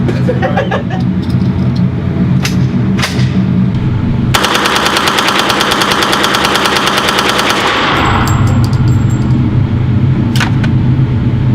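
Machine gun at a shooting range fires a long, loud, rapid sustained burst lasting several seconds, with single shots and range noise before and after.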